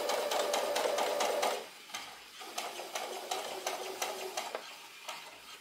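A sewing machine stitches a curve on a cosmetic tissue cover in rapid bursts of clattering needle strokes, a sustained run followed by shorter intermittent stitching, close and clear.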